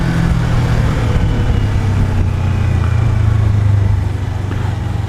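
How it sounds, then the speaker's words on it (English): A motorcycle fitted with its standard stock exhaust runs steadily up close, with a low droning engine note that holds throughout and eases slightly near the end. "And I've got the standard exhaust back on the bike now."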